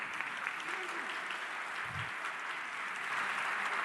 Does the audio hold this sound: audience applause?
yes